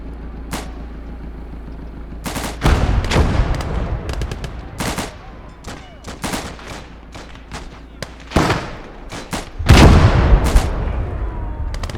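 A gun emplacement firing in Call to Arms Gate of Hell, loud booming shots and bursts of machine-gun fire scattered irregularly, with heavier blasts and explosions standing out against background battle noise.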